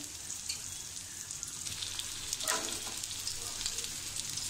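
Rupchand fish shallow-frying over medium heat in a pan, Malvani style, giving a steady soft sizzle with faint crackles throughout, close and fairly quiet.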